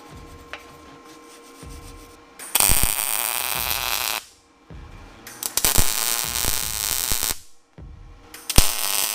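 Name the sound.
welding a butt weld on a steel motorcycle rack hoop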